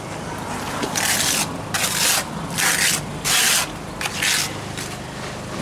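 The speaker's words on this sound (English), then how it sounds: "And you get your cement, plaster it in there." Cement being worked into the holes of a stone veneer wall, heard as a series of about six rough, scraping rubs in uneven bursts, close and fairly loud over a steady background hiss.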